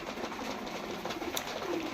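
Pigeons coo softly on a pigeon farm, faint murmuring calls beneath a steady hiss of background noise.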